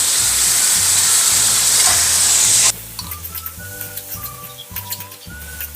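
Ground pork frying with soy sauce in a pan makes a loud, close hiss that cuts off abruptly, followed by softer scraping and tapping as it is stirred.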